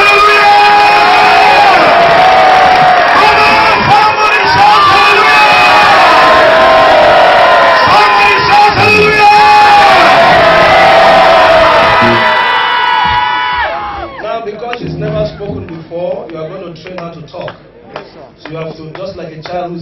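A large crowd at an outdoor church miracle crusade in Nigeria shouts hallelujah and cheers loudly and steadily. The roar thins toward the end into scattered cries and a voice over a PA.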